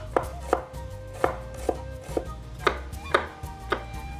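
An onion is chopped finely with a knife on a board for a quail bozbash: about ten crisp, sharp knife strikes in a loose, uneven rhythm, close and clear with no talking.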